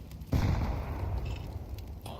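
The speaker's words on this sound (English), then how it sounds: "These nades are brutal." A grenade in a Counter-Strike match bursts with a sudden low thump, followed by a rumbling decay lasting about two seconds, moderately loud.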